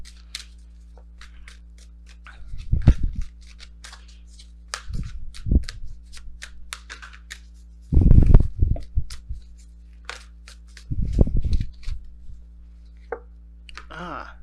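Oracle cards being shuffled during a tarot reading, heard as four short bursts of riffling and slapping spaced a few seconds apart over a steady low hum, close to the microphone.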